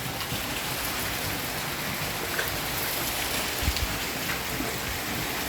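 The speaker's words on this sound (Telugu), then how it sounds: "బయట అయితే వర్షం ఫుల్గా పడుతుంది" Heavy rain falling outside in a steady, unbroken wash of hiss and patter, moderately distant and evenly loud throughout with no voices.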